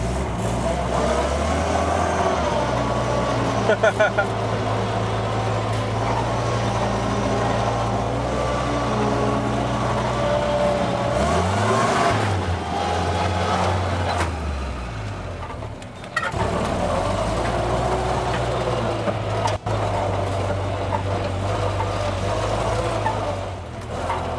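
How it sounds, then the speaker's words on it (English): A Jeep Willys engine runs steadily close by, reversing in first gear on an off-road course with a low, sustained drone that dips and swells as the revs change, with no talk over it. "I'm gonna reverse now. Go right back into it."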